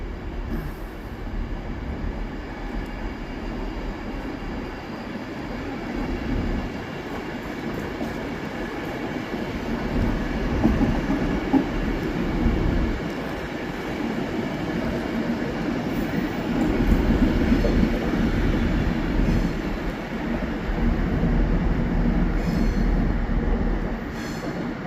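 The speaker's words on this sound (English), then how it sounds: "Our next train that we have today is 390046 with 1 Mike 12, 1 M12 from Glasgow Central to London Euston." A Class 390 electric train, 390046 running from Glasgow Central to London Euston, rumbles past at Carlisle with a steady roar of wheels and faint squeals, loud and sustained throughout.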